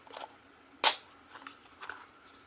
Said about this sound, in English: undo the latch, open it up, close it, and close the latch.